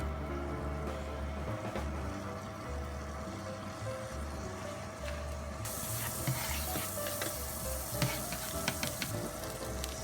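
Garlic and asparagus sizzle in an oiled skillet, a steady close hiss of frying with a brighter crackling burst partway through and faint clinks of cooking utensils.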